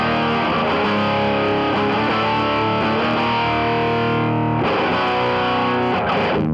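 An electric guitar played through an Idiotbox Han-Taun distortion at full gain roars with thick, saturated sustained chords, loud and compressed, with a fresh strum re-attacking near the end and no talking.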